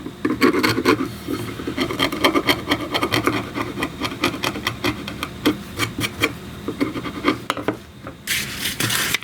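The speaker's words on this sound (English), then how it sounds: "Just scrape it off with the chisel." Chisel scraping old glue off a wooden chair leg, a close, busy run of short rasping strokes in an uneven rhythm, with no voices.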